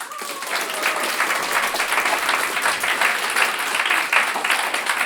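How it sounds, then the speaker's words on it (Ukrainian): Steady applause from a stand-up comedy audience fills the room, dense clapping sustained throughout at an even level. "У мене так і записано: в цьому місці аплодисменти."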